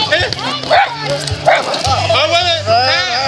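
An angry dog barks in sharp, repeated bursts during a fight, loud and close, with excited voices shouting over and between the barks.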